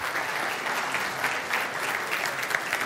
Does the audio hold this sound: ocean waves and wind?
no